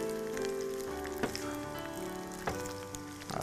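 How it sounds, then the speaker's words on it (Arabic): Penne pasta frying in oil together with a sauce, a soft, low-level sizzle running steadily with a couple of brief sharper crackles or utensil knocks, close by and without speech. "الزيت نورمالمون تقلي"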